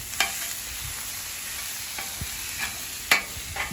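Steady sizzling on a hot griddle with a few sharp metallic scrapes and taps of a spatula chopping Philly cheesesteak filling, spaced irregularly.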